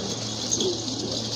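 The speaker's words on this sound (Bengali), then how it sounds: "এই যে দেখেন তারপরে ডাকার চেষ্টা করতেছে হাতের কবুতরটা" A single bachelor pigeon held in the hand gives low cooing calls over steady farm background noise, with no talking.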